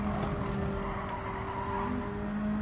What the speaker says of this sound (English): Did you hear that noise from the wheel? That's me understeering